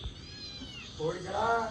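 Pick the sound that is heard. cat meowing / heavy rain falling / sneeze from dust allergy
cat meowing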